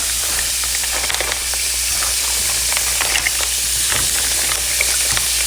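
Mussels seasoned with garlic powder frying in a pan, giving a steady loud hiss and crackle of sizzling with faint scraping clicks as they are stirred, close up and without talk.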